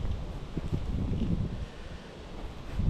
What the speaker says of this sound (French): toujours autant de vent.